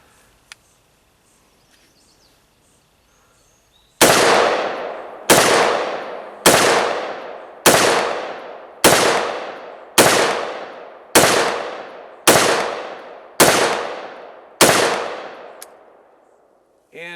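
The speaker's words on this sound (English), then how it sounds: "Let's fire a few more." A firearm fires ten evenly spaced rounds during live fire, each a loud, sharp report with a ringing decay, coming about one per second after a few seconds of near silence.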